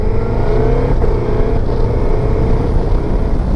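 A motorcycle ridden like a motocross bike accelerates hard through the gears, its loud, continuous engine roar rising in pitch with a brief dip at a gear change, close and alone without voices.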